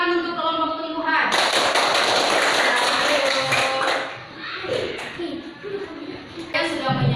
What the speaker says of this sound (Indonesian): Tepuk tangan untuk kelompok tumbuhan.